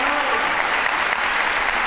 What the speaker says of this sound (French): Il mérite beaucoup d'applaudissements.